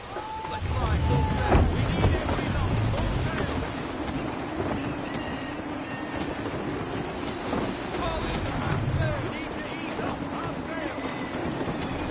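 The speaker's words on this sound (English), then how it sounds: "Wind looks to be shifting. Stay alert, Connor. Gusty winds can be difficult to manage." Gusty wind at sea while sailing in Assassin's Creed 3, with blustery wind rumble, waves and surf washing around the ship, steady and fairly loud beneath someone speaking.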